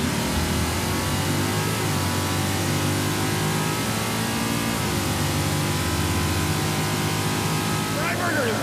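Roadkill Garage's Crop Duster drag car launches down the strip on nitrous, its engine roaring loud and steady with the rising pitch of hard acceleration, close and continuous.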